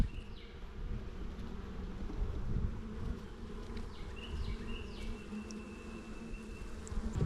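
Thousands of honeybees buzz among persimmon tree flowers, a dense continuous hum with individual bees droning past close to the ear, no voices.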